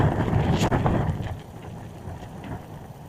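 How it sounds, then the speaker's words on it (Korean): Strong gusts batter a tent at a beach campsite on Jeju's Gimnyeong Beach, a loud, continuous roar of wind with flapping fabric and wind buffeting the microphone, easing slightly toward the end. "바람이 바람이 텐트가 지금 찢어질 것 같아요 진짜"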